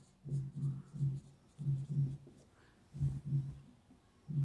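A pen writes out a geometry proof by hand during a maths lesson, short muffled scratching strokes coming in quick clusters with brief pauses between them, close and fairly quiet.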